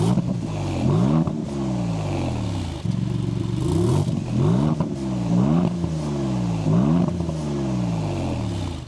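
A 2024 Maserati MC20 sports car engine starts and revs repeatedly, each throttle blip rising sharply then falling back, loud and close with a rough idle between pulses.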